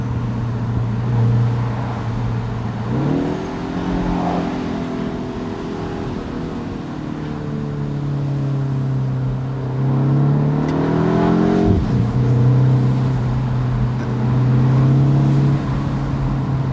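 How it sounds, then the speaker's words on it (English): The turbocharged engine of a 2025 Mini Cooper JCW convertible drones steadily from inside the cabin with the top down, rising in pitch twice as it accelerates, with a turbo whine and throaty exhaust beneath. "You can hear the turbo spool up. You can hear that exhaust a bit better with the top down."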